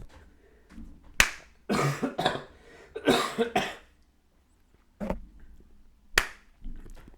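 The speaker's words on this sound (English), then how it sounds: "that was a cough, and also the clap" A cough and a sharp hand clap, given as a pair of abrupt spikes for editing during a podcast recording, stand out as several broadband bursts close to the mic against a quiet room.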